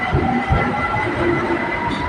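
A BTS Skytrain rolls past close by at Saphan Taksin station, a loud steady rushing rumble with faint rhythmic clatter from the rails.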